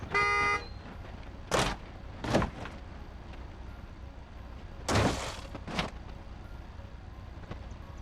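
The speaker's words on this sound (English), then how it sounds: "Maybe now you'll stop honking at me." Car horn honks in the BeamNG driving game: a long blast followed by several short toots spaced across the clip, moderately loud against a quiet engine background.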